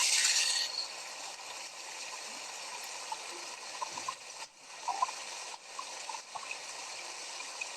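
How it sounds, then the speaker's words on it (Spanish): Water flows over rocks as a steady, soft broadband rush, fairly distant and even, with occasional faint trickles and gurgles rising briefly above the wash. "aquí tenemos aguas y rocas"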